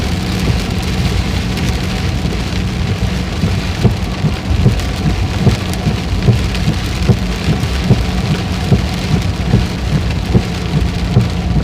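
Heavy rain pours down steadily after a drizzly day, a loud, dense wash of drops hitting surfaces with occasional sharper pattering, continuous and close with no voices.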